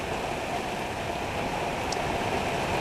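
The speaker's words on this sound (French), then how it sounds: "il tombe des cordes" Heavy rain pours down on a sailboat crossing the mid-Atlantic during a passing squall, a dense, steady hiss of close downpour with no breaks for the whole stretch.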